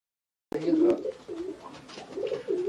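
Racing pigeons coo in a loft aviary, low throaty rolling calls repeating close by after a brief silence, with some indistinct voices in the background.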